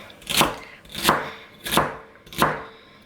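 Celery stalks chopped with a kitchen knife on a cutting board, four evenly spaced, crisp thuds about two-thirds of a second apart, close and clear with no voices.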